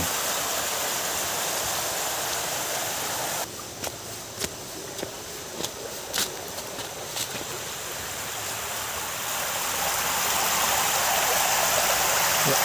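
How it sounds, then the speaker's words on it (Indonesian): A river flows beside a mountain hiking trail in Indonesia, a steady broadband rush of water running throughout, with a few brief clicks and knocks near the start and the flow swelling slightly louder toward the end. "Kita menyusuri jalur yang ada sungainya di sebelah kanan."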